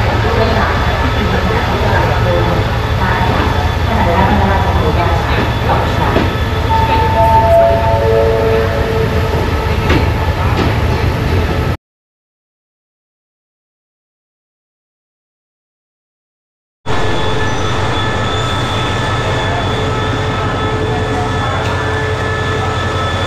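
Interior of a Malaysian railway train under way: loud, steady rumble of wheels and running noise with some squealing tones, cut by a stretch of complete silence before the rumble resumes.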